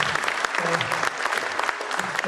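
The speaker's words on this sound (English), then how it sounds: "give them a round of applause." An audience at an educational program in an air museum breaks into steady, dense applause, a loud continuous wash of many hands clapping together throughout, with faint voices mixed in.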